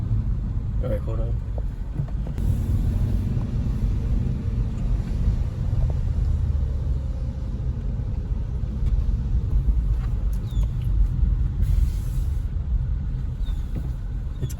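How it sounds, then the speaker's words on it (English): A 2014 Hyundai Veloster engine idling after a misfire repair, a steady low rumble heard close, with people talking over it and a brief clatter near the start. "I think it's even idling better than before."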